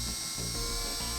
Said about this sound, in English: Make sure you do this with the drill on a slow speed.